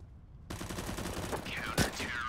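Gunfire in the video game Counter-Strike: Global Offensive: a dense, sustained burst of rapid shots that starts abruptly after a brief quiet moment and continues with a sharper crack near the end.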